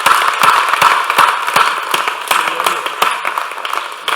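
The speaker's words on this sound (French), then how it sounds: "On va vous applaudir." Loud, dense applause from an audience at a French New Year's address to the public fills the room with sustained rapid clapping and no talk over it.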